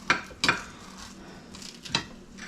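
A knife cutting a hot breakfast burrito straight from the skillet on a plate, making a few sharp clinks and scrapes against the dish, close and fairly loud, with no speech.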